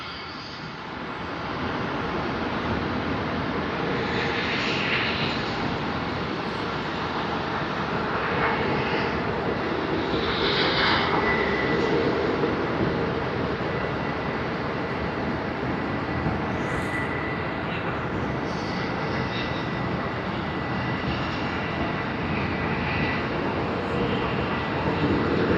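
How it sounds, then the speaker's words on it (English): Jet airliner engines on an arrival at Sydney Airport, a loud sustained roar and rumble that holds steady throughout, heard from a distance outdoors. "I can hear the engines spool in."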